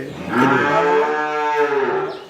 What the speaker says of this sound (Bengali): বেশ সুন্দর সুন্দর গরু দেখতে পাচ্ছি আমরা